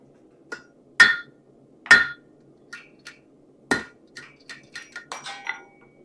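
A hammer strikes a rivet on a metal trivet with sharp, ringing clinks, a few spaced heavy blows followed by a quicker run of lighter taps, close and clear, with no talk.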